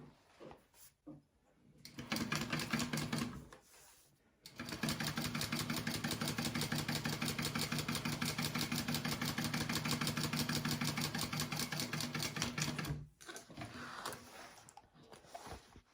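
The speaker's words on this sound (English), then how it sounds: "I am going to sew 1/8 of an inch top stitch along each of these folds" A sewing machine runs in long steady bursts, top stitching along the folds of a fabric wallet, a fast even mechanical whir with short pauses and a few handling clicks between runs.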